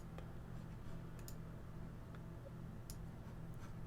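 A few soft, sharp computer mouse clicks spaced apart over a quiet, steady background hum.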